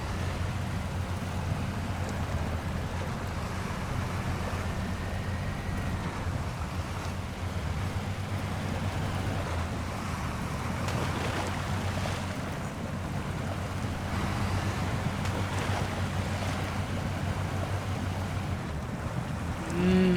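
Heavy truck sloshing through deep water in the SnowRunner game, Yukon map, its engine taking damage; a steady low engine drone and broad watery rush continue throughout with no speech.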